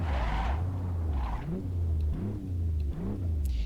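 A race car in a sim racing game drives with a steady low engine drone, its pitch falling and rising as it slows under braking and picks up again, loud and continuous with no talk.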